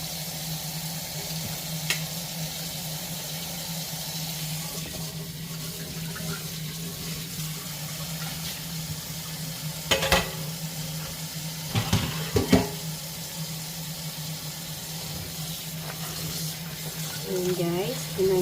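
Napa cabbage for kimchi is rinsed under running water at a kitchen sink, a steady low water flow with occasional splashes and clatter, and a voice speaks now and then.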